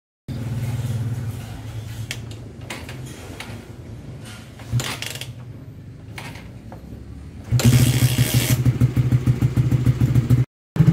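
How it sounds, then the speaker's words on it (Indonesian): A motorcycle engine idles while warming up on a cold start, a steady close rumble with mechanical clicks, then a short louder throttle blip before cutting off. "kita akan sedikit gas di sini."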